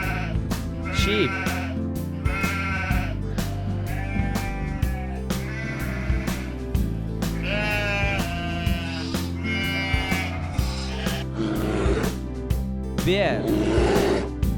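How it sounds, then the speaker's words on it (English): Sheep bleat several times in wavering cries over a steady background music track, fairly close and clear. "Sheep."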